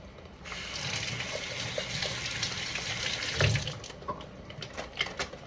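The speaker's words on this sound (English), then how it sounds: "make sure to wash your hands" Water runs steadily from a kitchen tap as hands are washed, a close, continuous splashing rush with small shifts and splatters as the hands move under the stream.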